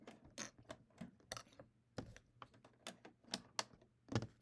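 A home sewing machine's bobbin being changed during quilt block piecing, with a series of close, small mechanical clicks, snaps and rattles in an irregular rhythm.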